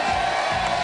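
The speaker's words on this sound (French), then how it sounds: "J'aimerais pour cette dernière émission qu'on applaudisse nos trois hôtesses" A television game-show studio audience applauds and cheers for the three hostesses, a steady roaring wash of many hands and voices, loud and continuous.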